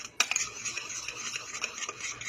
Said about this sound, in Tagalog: And with that, I just mix this up all together.